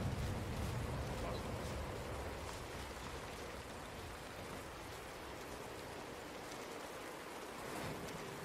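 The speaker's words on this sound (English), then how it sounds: "it's really starting to storm here" Steady storm rain in Red Dead Redemption 2 Online, a dense, even wash of rainfall that holds at moderate level throughout, with faint ambient rumble underneath.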